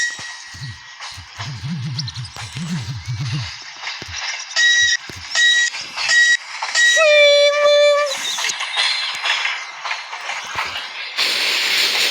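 An ER2R electric commuter train arrives at a station, with a rising and falling hiss and rumble, a bright squeal of braking, and clanks close by, while a person talks over the low rumble at the start.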